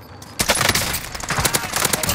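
Rapid automatic gunfire in the game Call of Duty Cold War Warzone, starting suddenly after a brief quiet moment and continuing as loud, close bursts of overlapping shots.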